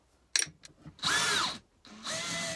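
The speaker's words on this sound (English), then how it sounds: "That's where I need to drill the vertical hole." A couple of clicks and knocks, then two bursts of a power drill whirring up and running steadily, close and loud, with a pause between, drilling a vertical hole in a caravan for speaker wiring.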